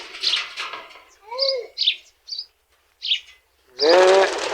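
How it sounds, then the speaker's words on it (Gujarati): Pigeons in a village give scattered short calls and chirps, separated by brief silences. A louder, rustling burst at the end may be birds stirring or flapping nearby. "લે બધા કબૂતરને ઉઠાડી"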